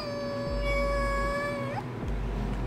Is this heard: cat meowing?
yes